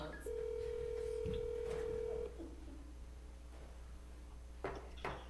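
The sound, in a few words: telephone being dialed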